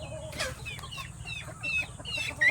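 Purebred White Kelso breeding chickens in a pen give repeated clucks and short, squawky calls over a low background hum, fairly close and moderately loud, with no talking.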